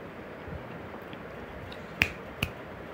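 Two sharp finger snaps ring out in quick succession, close and crisp against a quiet room, about half a second apart.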